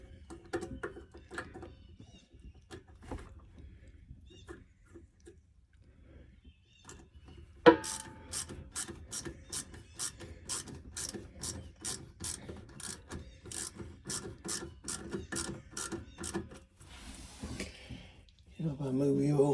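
Pipe clamps being cranked down on a lodge water system, a steady series of sharp ratcheting clicks at close range after a quiet stretch, ending with a brief rubbing scrape.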